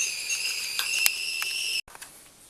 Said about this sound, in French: Voilà, ma cafetière siffle